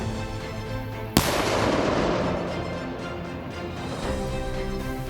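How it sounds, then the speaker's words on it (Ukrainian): A single sharp, loud explosion set off by police bomb technicians in Sumy region, Ukraine, bursts suddenly, followed by a long rumbling, crackling decay that slowly fades over several seconds. "Вибух!"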